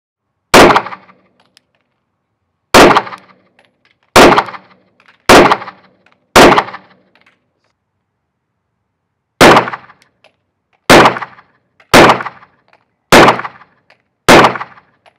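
Ten sharp gunshots from a subcompact pistol fitted with a Sightmark Mini Shot A-Spec M3 red dot, fired in two groups of five with a long pause between, each crack loud and close with a short decay.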